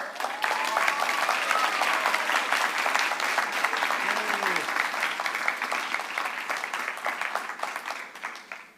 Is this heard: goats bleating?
no